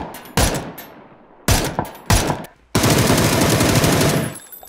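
Bursts of gunfire in the PUBG PC video game, loud and close: a few separate cracks with decaying tails, then a sustained rapid automatic burst lasting nearly two seconds.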